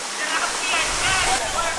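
A jungle waterfall in Sumatra crashes down in a steady, loud, broadband roar of rushing water that fills the whole moment without pause.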